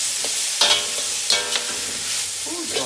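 Red pepper hits a hot pan for chicken chow mein and fries with a loud, steady hiss. Sharp scrapes and clanks from stirring cut in several times.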